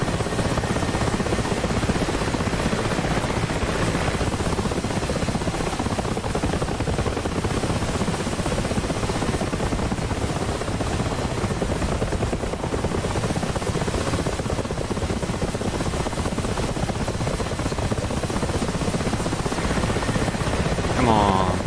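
Mi-8 transport helicopter setting down at a forward landing pad in the flight simulator DCS World, its rotor and turbine roar loud and steady throughout, with faint radio-style talk underneath.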